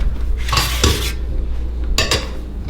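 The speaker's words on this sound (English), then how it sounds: "Now we're gonna add these to our pizza pan." Cooked waffles set down onto a metal pizza pan, giving a couple of loud, close metallic clanks and scrapes over a steady low kitchen hum.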